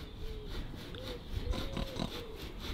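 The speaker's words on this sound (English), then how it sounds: "What does the pig say? What noise does he make?" Pig on a UK farm grunting and oinking a few times at close range over steady outdoor background noise, with no talk during the sounds.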